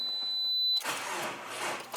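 Subaru Forester with a dead battery fails to start: a chime cuts off as the key turns, followed by a short burst of weak cranking-type noise and clicking that never catches into a running engine.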